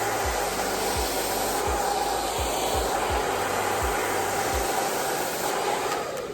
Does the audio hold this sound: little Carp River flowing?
no